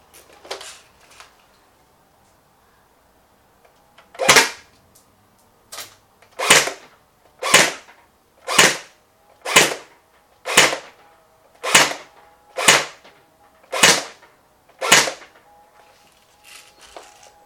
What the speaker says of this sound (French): Je viens de terminer mes 10 premiers tirs en semi-automatique.